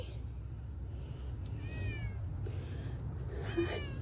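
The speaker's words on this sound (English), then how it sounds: "It's the kitty" A thin cat gives a couple of faint meows over a steady low background hum, with soft movement noises around it.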